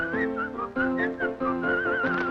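A melody is whistled over orchestral accompaniment in a 1945 musical number, with bright, clear phrases that rise and fall, moderately loud and continuous.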